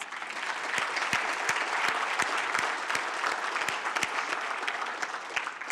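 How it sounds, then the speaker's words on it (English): Audience applause at the Brownsville 2022 State of the City address, a steady wash of many hands clapping that holds at an even level throughout, with scattered sharper individual claps standing out. "So let's give her a round of applause."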